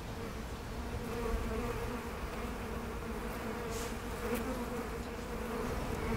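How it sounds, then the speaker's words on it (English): A dense, steady buzzing of a honeybee swarm, constant and fairly close, with a low continuous drone and no voices. "So this is what a swarm looks like."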